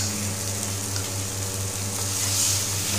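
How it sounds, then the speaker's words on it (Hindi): Whole spices frying in hot oil in a home kitchen pan, a steady close sizzle running unbroken throughout with no voices. "अभी देखिए थोड़ी हम खड़ी डाल देते"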